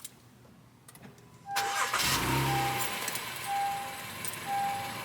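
A car engine cranks and starts after a quiet lead-in, then settles into a steady idle heard close by, with a faint warning tone beeping now and then and no talking.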